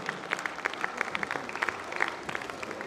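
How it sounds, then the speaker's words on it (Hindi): A school audience claps loudly for a class 10 student named best student of the year at an annual function: dense, steady applause from a crowd, held for the whole stretch with crisp individual claps standing out. "जोरदार ताली बजाकर इनका स्वागत करें।"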